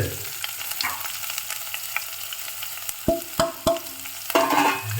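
Oil sizzles steadily in a pan as chili and curry leaves fry, with a few sharp clinks of a utensil against metal and a louder burst of crackling near the end.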